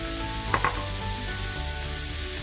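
Marinated steak frying in an oiled pan for a Philly cheesesteak, giving a steady close sizzle throughout with a couple of brief clinks of utensils near the start.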